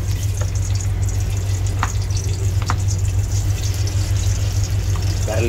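Garlic frying in hot cooking oil for chopsuey, a steady close sizzle running throughout over a low constant hum, with a few faint clinks.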